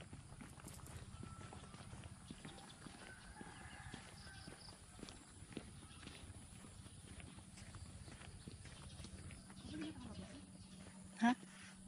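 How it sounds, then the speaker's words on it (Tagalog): Horses' hooves clip-clop faintly in a quiet outdoor setting, a light irregular patter of steps going on throughout, with people talking softly nearby. "Ito na yung mga kabayo oh."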